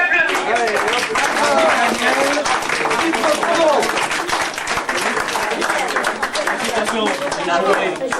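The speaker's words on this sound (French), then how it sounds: "on va les applaudir" An indoor audience at a children's badminton event claps steadily in dense applause, with chatter and voices mixed in throughout.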